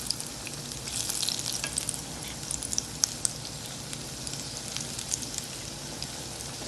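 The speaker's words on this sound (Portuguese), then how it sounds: "Adoro essa parte. De fritar, né?" Bolinho de São João, Brazilian fried dough balls, sizzle in hot oil with a dense, steady, close crackling hiss and scattered sharp pops throughout, with no voices.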